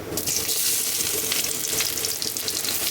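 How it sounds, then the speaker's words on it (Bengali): Mustard oil in a wok sizzles with a continuous, fairly loud hiss, close by and steady, with no talking. "খিচুড়ি রান্নার জন্য আমি কড়াইয়ে তেল দিয়ে নিব সরিষার তেল দিয়ে নিব"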